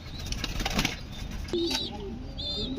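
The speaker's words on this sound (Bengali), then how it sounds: "দেখুন এত সুন্দর কবুতর" Pigeons kept as pet breeding birds flap their wings in short fluttering bursts, close by, mixed with soft background noise and a few faint chirps.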